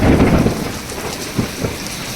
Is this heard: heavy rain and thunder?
yes